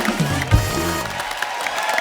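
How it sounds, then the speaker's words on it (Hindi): A television comedy studio audience applauds and cheers for a women's cricket team, a loud, even clapping wash with a brief voiced burst and a rising musical tone in the middle. "दोस्तों एक बार तो हमारी विमेन क्रिकेट टीम के लिए जोरदार तालियां।"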